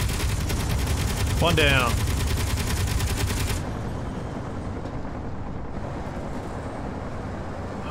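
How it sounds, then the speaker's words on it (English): Twin turrets fire rapidly in a video game, a dense loud burst of gunfire that stops abruptly partway, leaving a lower rumbling hum, while someone speaks briefly over it. "both my turrets are firing quite effectively"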